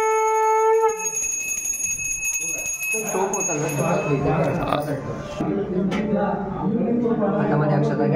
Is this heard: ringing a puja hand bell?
yes